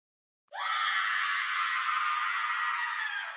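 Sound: played sound effect of a person screaming

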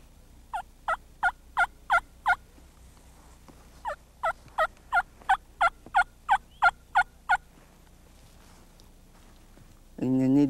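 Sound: turkey call clucks imitating hen and gobbler

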